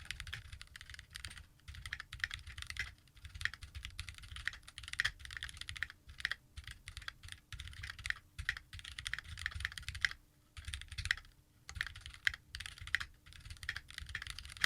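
Rapid, continuous clacking of a Keychron Q1 mechanical keyboard, sped up so keystrokes tumble unnaturally fast with brief pauses, close and fairly quiet.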